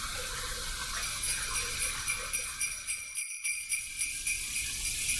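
Water runs into a bathroom sink as a wash rag is rinsed during a head shave, making a steady splashing flow with slight rhythmic surges and a brief pause partway through, close and alone.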